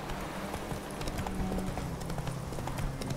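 Roach, a horse in The Witcher 3 video game, gallops along a road with a steady, close run of clip-clopping hooves over a low, continuous game ambience.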